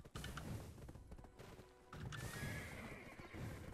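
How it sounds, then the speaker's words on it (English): Horses in the video game Black Desert Online whinny and neigh among clip-clopping hooves and scattered game effects, the calls fairly clear amid a busy mix. "I see a couple of horse here."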